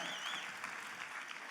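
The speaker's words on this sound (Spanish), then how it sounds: "Aplauda al Rey de Gloria." A church congregation applauds, a dense, steady patter of many hands clapping at moderate loudness with a high tone faintly audible early on.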